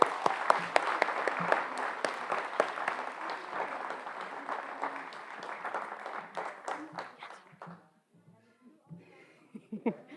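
Audience at a high school senior awards night applauds an award recipient, a steady wash of clapping with a few cheers that fades out toward the end, leaving quieter room noise.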